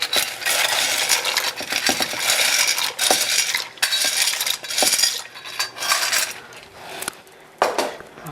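Dry bow tie and penne pasta rattle and clatter as they are tossed together in a container, a dense run of hard, clinking rustles with brief pauses, close and fairly loud, with no one talking.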